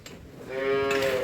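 A cow moos once, a loud close drawn-out low call rising from near silence, heard alone as cattle and buffaloes are fed.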